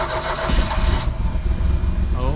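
A car engine, just retimed after running a cylinder off, fires and runs loudly on a dyno, a steady low rumble with broadband roar close up, a brief raised-rev warble near the end, and voices mixed underneath.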